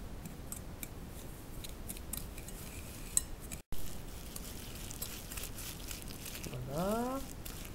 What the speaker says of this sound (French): On va commencer dans les jaunes, on va mettre le sucre. Et on va venir blanchir la préparation.